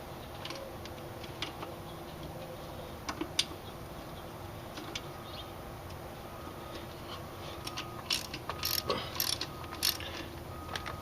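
A ratchet tightens intake manifold bolts on a Jeep Cherokee 4.0, giving faint scattered clicks and short ratcheting bursts against a quiet garage background, busier toward the end.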